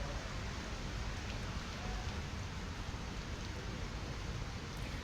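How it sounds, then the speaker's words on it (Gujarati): Steady, dense rainfall over coastal villages of Amreli district, a soft even hiss with no breaks or thunder, heard from outdoors at moderate distance without any voices. "અમરેલી જિલ્લાના દરિયાકાંઠા વિસ્તારોમાં વરસાદનું આગમન થયું છે"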